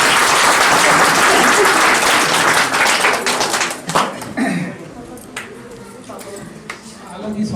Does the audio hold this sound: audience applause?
yes